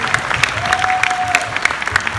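Clapping from an audience at a business gathering, with sharp, fairly regular claps that stand out above a busy background, and a brief steady tone in the middle.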